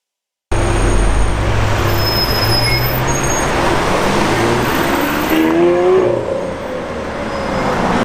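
A 6.5-liter, 740-horsepower V12 sports car engine in a Need for Speed video game roars loud and steady, then its pitch shifts and climbs as it revs on.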